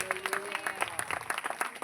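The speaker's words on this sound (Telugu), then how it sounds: "చప్పట్లు కొట్టండి గట్టిగా." Congregation clapping at a Telugu Christian ministry gathering, a quick uneven patter of separate handclaps, moderately distant, with a brief voice or tone near the start.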